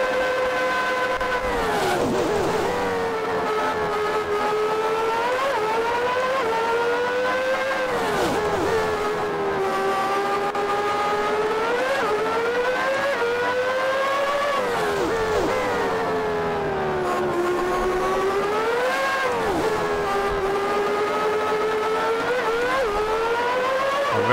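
Race car engine from the Grand Prix 2 video game, 1990 season at Phoenix, screaming through a lap with revs rising and falling repeatedly through gear changes, loud and continuous with no talk over it.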